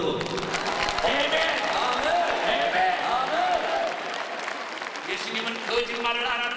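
Crowd applauding at a religious gathering in Moscow, steady clapping under a voice speaking over it, with some vocal tones and cheers mixed in.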